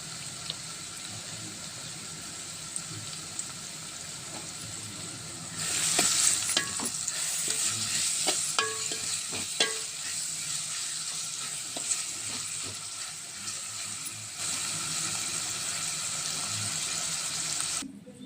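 Sliced onions and salt cooking in oil for mutton keema curry, a steady close sizzle that swells as they go in, with repeated spoon scrapes and stirring clatter against the pan.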